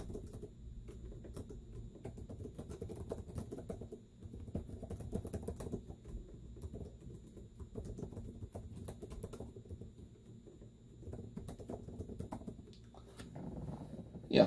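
Steady typing on the large backlit keyboard of a Lenovo Yoga Chromebook C630 with a 15.6-inch screen, soft continuous key patter at close range with no talking.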